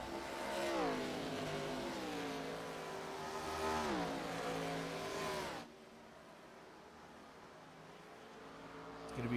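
Race cars lapping a racetrack during a Thursday night race at Phoenix, engines revving loudly and steadily with rising and falling pitch as they pass, then dropping to a quieter distant drone.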